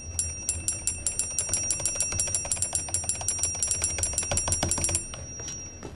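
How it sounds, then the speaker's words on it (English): A service bell in a video game rings in a rapid, steady string of bright metallic dings for about five seconds, loud and close, with no talking over it. "Ring bell for service."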